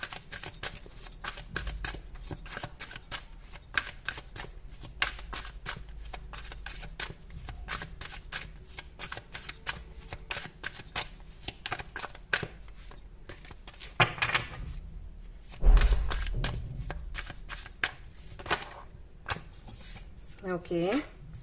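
Tarot cards riffle and shuffle steadily nearby in a run of soft, crisp flutters, with a couple of sharper slaps and taps near the end and a voice talking faintly underneath.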